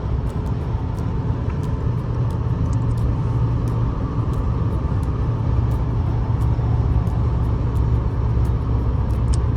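A car driving on a Canadian highway between Brampton and Peterborough, accelerating toward 125 after a lane change, heard as a steady, loud interior road rumble with engine drone and tire noise throughout, with no talk.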